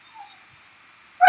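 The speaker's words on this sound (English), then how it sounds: "My dog is really excited." A pet dog gives soft, high whimpers in a quiet room, a few faint whines followed by a sudden louder yelp-like cry at the end.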